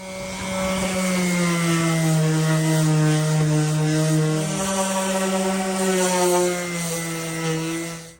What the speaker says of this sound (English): So we're gonna sand this down. We're gonna use some 60 grit first and get started.